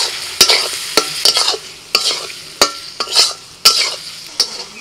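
Bitter gourd, round-sliced onion, turmeric and salt fry in a pan and are stirred with a spoon. Sharp clinks and scrapes against the pan come every half second or so over a soft sizzle, close, with no talking.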